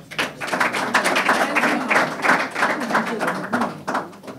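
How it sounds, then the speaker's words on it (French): Audience at a welcome gathering clapping in a lively crowd, a mix of sharp near hand claps and a broader ragged patter that swells and dips over several seconds, with some voices mixed in. "Merci pour vos applaudissements."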